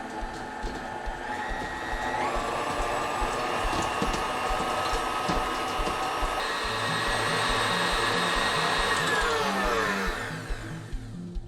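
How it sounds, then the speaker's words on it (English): A stand mixer whisks butter in its bowl with a steady, loud whine that holds for about ten seconds, shifting pitch partway through as the speed changes, then winding down near the end, with no talking. "And we're going to whisk them."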